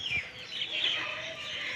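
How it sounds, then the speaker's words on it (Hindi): Faint pigeon chirps and soft calls drift over a steady outdoor hiss as pigeons fly around a house, distant and continuous without any talking. "हमारे घर के इर्द गिर्द सारे घूम रहे हैं कबूतर, उड़ रहे हैं"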